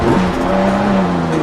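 A race car's wheels locking up and skidding in a racing game, a loud, close tire screech with strained engine drone lasting about a second and a half.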